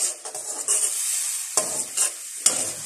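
Masala spices fry in hot oil for mutton paya, giving a bright crackling sizzle close by, with several sharp stirring scrapes spaced through the short stretch.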